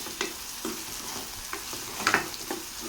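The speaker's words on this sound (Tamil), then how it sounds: "வெங்காயம் வந்து ஓரளவுக்கு நல்லா வதங்கி வரணும்" Onions sauté in a hot pan for a jackfruit-seed dry fry. A spatula scrapes and stirs in irregular strokes over a soft, constant sizzle, close up and with no voices.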